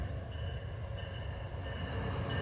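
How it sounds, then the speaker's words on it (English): Amtrak 176 passenger train rolling past in Charlottesville, Virginia, a steady dense rumble and wheel noise sustained throughout at close range. "The Amtrak 176."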